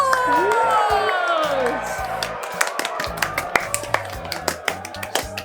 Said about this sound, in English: let's give Emily and let's give Tabz a big round of applause!